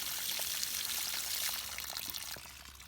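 Water pours steadily from a hose during a running test of a 2006 Yamaha 70TLR two-stroke outboard, a broad hiss that thins out and drops away near the end as the flow is shut off.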